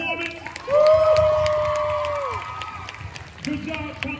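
A crowd cheers and applauds at a dance battle for a cheerleading competition performance, loud whoops and a sustained shout rising over clapping, with an announcer's voice over it toward the end.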